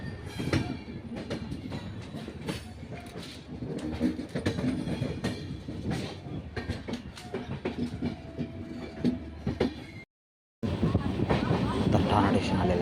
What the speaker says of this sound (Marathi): चला, आपली मेल आता मस्तपैकी चालू झालेली आहे.